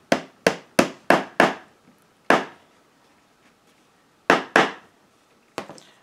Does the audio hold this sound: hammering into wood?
yes